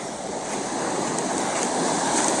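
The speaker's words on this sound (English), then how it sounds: "These freaking waves." Ocean surf washes in continuously, a broad hissing roar of breaking waves that swells slightly louder toward the end, mixed with some wind buffeting, and no one speaking.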